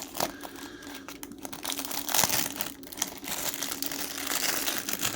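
Crinkly plastic wrapping is pulled and peeled off a 7x7 Skewb twisty puzzle, with close, continuous crackling and rustling bursts that come in uneven waves and have no talk over them.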